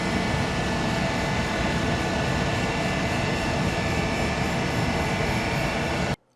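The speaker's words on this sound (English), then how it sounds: "I'm going to put a much finer wheel on and take that last little tiny bit off" A fine bench grinding wheel dresses the shank of a scratch-built double-start tap, giving a steady, loud broadband whir and hiss that runs unbroken for about six seconds before it cuts off abruptly.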